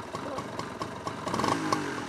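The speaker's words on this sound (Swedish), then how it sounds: "Helt svensk moped." A Husqvarna moped of fully Swedish make with a Swedish frame, its small engine buzzing and clattering at a motocross event, held steady and then rising slightly, heard from moderately close with no talking.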